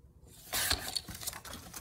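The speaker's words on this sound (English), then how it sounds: "Then I'm just gonna trim. I'm gonna trim these sides with my guillotine." A paper guillotine slices through junk journal pages, giving a quick scraping cut followed by a few small rustles and taps, close and fairly quiet with no voices.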